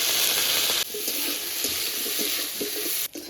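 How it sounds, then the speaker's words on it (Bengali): Loud, steady sizzling of eggplant frying in hot oil fills the clip, with a drop in intensity partway through and faint stirring clicks. "বাকি তেলে এবার বেগুনগুলো ভেজে নিচ্ছে"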